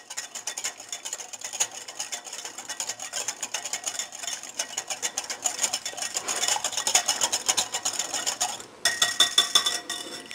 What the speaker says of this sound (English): I need to actually whisk this again. Make sure you get that really whisked up so that there are no lumps.